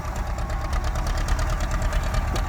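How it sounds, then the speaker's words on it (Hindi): A Fiat 640 tractor leveling soil with a front blade, its diesel engine chugging loud and close in a steady fast knocking rhythm, with no talk. "जो फिएट का ट्रैक्टर है 640"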